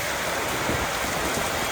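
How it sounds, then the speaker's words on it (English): Heavy pouring rain in Da Lat, Vietnam, a dense, steady, loud hiss of drops on surfaces with no pauses or voices. "It has been pouring rain off and on all day today"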